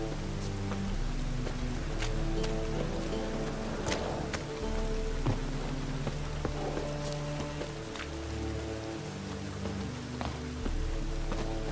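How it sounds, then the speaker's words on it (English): Rain patters steadily in The Witcher 3, a constant wash of drops with occasional sharper splashes and a low background hum, and no speech. "Raining again."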